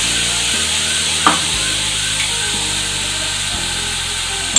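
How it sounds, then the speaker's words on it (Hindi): Two medium chopped onions hit the hot cooking pot with meat for aloo gosht, producing a loud, steady frying sizzle with occasional faint clinks, without any talk. "पहले से पतीला रखा हुआ था हमने, इसमें हम हमारी 2 अदद मीडियम प्याज कटी हुई डाल देंगे।"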